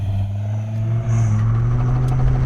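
A Dodge Viper engine accelerating hard from a launch with some wheel spin, a deep, loud, steady roar heard from inside the car that rises slightly partway through.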